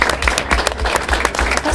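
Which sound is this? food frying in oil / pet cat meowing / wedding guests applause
wedding guests applause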